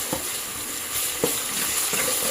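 Onion with ginger garlic paste fries in a pan for an egg masala, giving a steady close sizzle with a few soft stirring scrapes.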